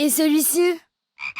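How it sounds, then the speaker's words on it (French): A frog croaks several times in close, loud, rhythmic pulses, followed by a pause and then a short spoken question. "Une grenouille."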